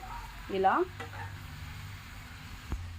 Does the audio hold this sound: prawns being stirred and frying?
yes